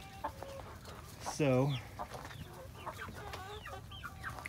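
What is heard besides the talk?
chickens clucking, young roosters starting to crow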